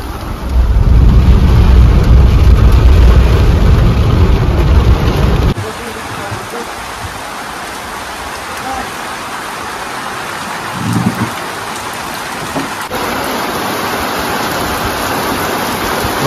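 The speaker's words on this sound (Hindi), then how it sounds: "ये देखो तेज बारिश हो रही है।" Heavy rain pours down in a forest at Cloud End, Mussoorie, a loud, dense roar for the first few seconds that then drops to a softer, steady patter.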